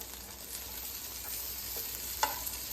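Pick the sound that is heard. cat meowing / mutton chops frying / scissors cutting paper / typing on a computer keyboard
mutton chops frying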